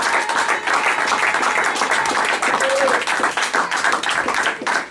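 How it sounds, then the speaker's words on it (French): Church congregation cheering for the glory of the Lord with loud, sustained applause and rhythmic clapping filling the room, voices and shouts mixed in throughout. "nous acclamons très fort pour la gloire du Seigneur"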